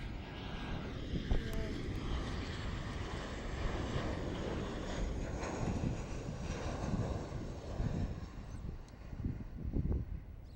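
Virgin Australia passenger jet passing at Adelaide Airport, a steady broadband engine roar holding at moderate level throughout, swelling slightly near the end with outdoor wind noise mixed in.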